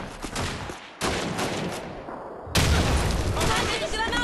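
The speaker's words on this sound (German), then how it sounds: "Schon wieder eine Granate." Grenade blasts in Call of Duty 2, three sudden broadband explosions a second or so apart, each booming loudly and rumbling on, with a voice talking beneath.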